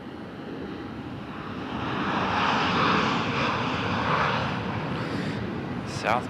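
A Southwest airliner landing at Raleigh-Durham at night, its engine roar rising and peaking mid-pass, loud and near, while people talk nearby.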